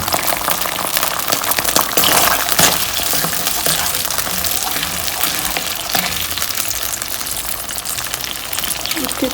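Water poured into a small bowl of soy sauce mixture for a chicken dish, heard as a steady close splashing gush with kitchen sizzle, continuous and fairly loud throughout.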